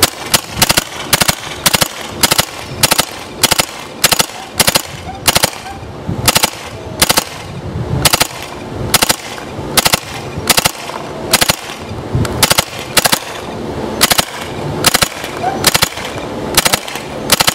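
Paintball marker with a Force Products feedneck adapter firing in semi-auto three-ball bursts, a long run of sharp, loud, evenly spaced popping shots filling the whole stretch.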